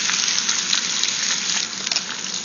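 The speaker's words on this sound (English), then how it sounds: "I'm going to throw the rest of my veggies in here" Vegetables and browning garlic sizzle hard in a hot pan, a dense, steady crackling hiss that stays loud and close throughout, with no voices.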